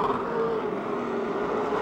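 Race cars roar around Motordrome Speedway three wide in a turn, forming a steady, fairly distant blended engine drone.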